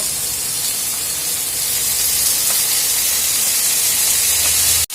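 Onion and garlic frying in hot oil alongside seeds for a bichi bhaji, a loud continuous sizzling hiss close up that holds steady and then cuts off abruptly.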